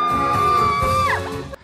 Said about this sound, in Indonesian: kini dia berteriak di atap gedung